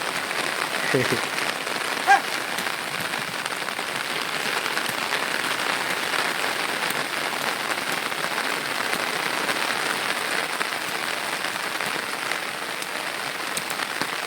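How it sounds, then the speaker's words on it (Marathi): Steady rain falls on open farm fields in the Konkan countryside, a dense, constant patter that stays even throughout, with one brief knock near the start and no talking. "आता इकडे आणि पाऊस आला आहे"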